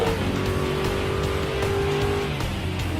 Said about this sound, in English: This is a class that represents entry-level race cars that are easy to drive.